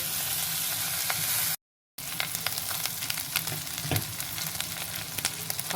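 Garlic paste sizzling and frying in a pan while being stirred for methi matar malai, a steady close crackle with scraping stirs and a brief gap of silence partway through.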